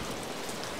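Steady, dense heavy rain patter drumming on a roof nearby, an even hiss with no voices.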